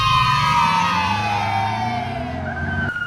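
Police car siren sounding loud and near, a long sustained tone gliding slowly downward with heavy traffic rumble beneath and no voices.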